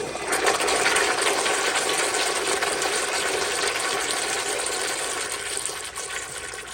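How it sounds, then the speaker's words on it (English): A Kohler Dexter urinal flushometer running on a garden hose gives a loud, continuous rushing hiss of water for several seconds, steady throughout and tapering only slightly at the end, with no talking. "but here is another flush"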